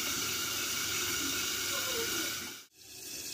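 Water poured into a hot pan of Bengali-style tomato bharta gives a loud, steady, broad hiss that holds for most of the moment, then cuts out briefly before the hissing resumes.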